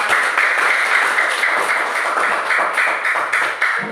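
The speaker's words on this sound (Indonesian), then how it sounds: "Tepuk tangan untuk kelas 5" Primary school class 5 pupils clapping together in a classroom, a close, loud, continuous patter of small hands with a slightly rhythmic pulse, no talking.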